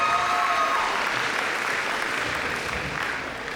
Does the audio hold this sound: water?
no